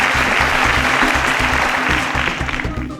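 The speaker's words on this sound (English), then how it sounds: "A round of applause for John." Loud, dense applause from a crowd, sustained clapping throughout that begins to thin slightly toward the end.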